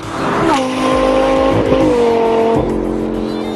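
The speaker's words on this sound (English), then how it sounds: "Now that you've experienced the sights and sounds of the Hefner Twin Turbo Gallardo" A Hefner twin-turbo Lamborghini Gallardo revs hard with a rising, falling engine whine, its tires squealing through several shifts, loud and close as the car runs.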